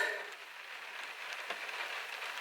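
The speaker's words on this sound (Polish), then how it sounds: "bo pada cały czas" Steady rain falls outside, a continuous soft hiss of drops with no break, fairly quiet and alone without voices.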